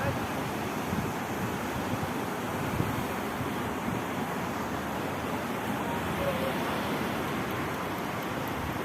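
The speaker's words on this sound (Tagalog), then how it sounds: "nag-high tide na kasi gabi na" Sea waves at high tide at night wash steadily in a continuous broadband roar with wind, loud and unbroken throughout, as rain approaches.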